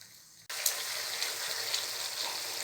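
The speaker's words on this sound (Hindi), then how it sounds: "हाई फ्लेम के साथ ही टमाटरों को अच्छी तरह से प्याज में भून लेना है।" Tomatoes fry with onions over a high flame, a sudden burst of loud, continuous sizzling that starts abruptly after a quieter moment and holds steady throughout.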